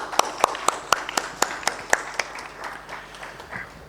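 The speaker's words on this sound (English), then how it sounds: "Let's give them a huge round of applause" A small audience at a packaging technology panel discussion claps for the panel members, with a handful of sharp, distinct claps in an uneven rhythm that thin out and fade into background murmur.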